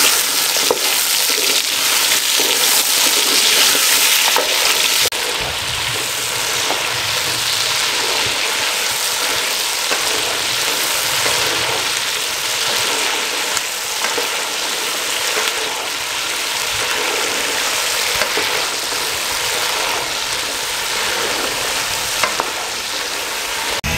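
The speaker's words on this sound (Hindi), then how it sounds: "मैं इनको फ्राई करने लगा हूँ ऑयल में।" Lasoora berries frying in oil for pickle, a continuous bright sizzle with stirring scrapes throughout, steady and close, with a slight shift in texture a few seconds in.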